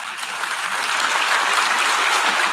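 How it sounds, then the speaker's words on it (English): Applause fills the UN General Assembly hall after a resolution vote, dense continuous clapping from a large crowd that swells and holds steady. "Applause broke out when the annual non-binding resolution was approved 189-2"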